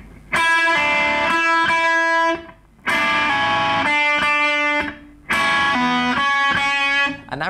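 A distorted electric guitar plays a riff with pull-offs in three loud repeated phrases separated by brief gaps, close and alone.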